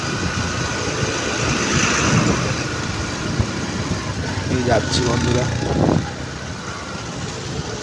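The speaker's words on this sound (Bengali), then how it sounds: "এই বাইক নিয়ে, আমার এই গরিবে বুলেট নিয়ে আমি বেরিয়ে পড়ি ঘুরতে" A Royal Enfield Bullet motorcycle engine thrums steadily while riding, a constant mid-level road drone with someone talking briefly over it.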